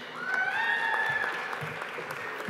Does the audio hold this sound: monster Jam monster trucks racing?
no